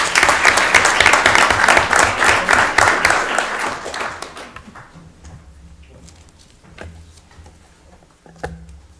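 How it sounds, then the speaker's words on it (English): Applause from the audience at a city council meeting in Lewiston honoring award recipients, loud and dense for about four seconds, then fading to scattered claps and room noise. "Another round of applause for them, please."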